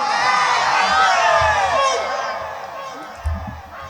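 A crowd at a religious gathering roars a takbir with raised hands, a loud massed shout of many voices that swells together and then slowly fades, with a brief thump near the end.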